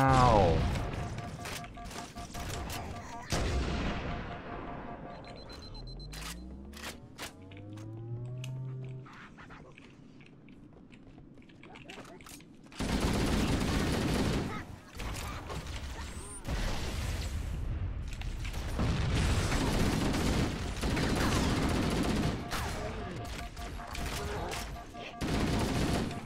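Gunfire in Halo: Combat Evolved, with rapid bursts and sustained automatic fire in loud stretches, broken by a quieter middle passage of sweeping electronic tones and whooshes.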